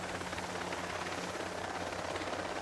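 Steady, continuous helicopter rotor and engine drone in the video game Breakpoint, faint and unbroken, with no voices.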